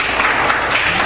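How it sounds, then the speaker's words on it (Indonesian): A classroom group claps for a small group of students in a teacher training session, a brief burst of close, fairly loud hand clapping lasting about a second. "tepuk tangan untuk kelompok"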